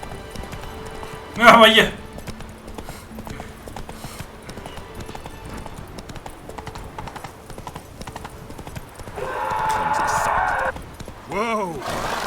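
A horse's hooves clip-clop in The Witcher 3: Wild Hunt game, a steady, moderately loud trotting rhythm that runs throughout. Someone talks over it, and short game sound effects break in.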